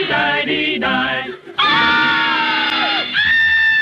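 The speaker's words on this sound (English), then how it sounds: "What are you screaming about?" A man screams in loud, sustained yells after waking from a nightmare, two shorter cries followed by a long wavering scream that bends downward before a final high shriek, with no other talk.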